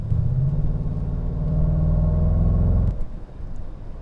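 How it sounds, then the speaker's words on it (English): A low, throaty exhaust burble from a Range Rover Sport SVR rumbles steadily for about three seconds, then cuts off abruptly to a quieter idle hum. "It just has the right amount of exhaust for the road."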